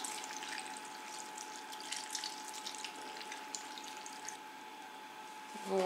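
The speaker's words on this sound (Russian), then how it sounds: "Заливаем все это кипяченой водой." Boiled water poured from a kettle over cut orange pieces for jam, a steady close splashing trickle running without a break for several seconds, with a small clink near the end.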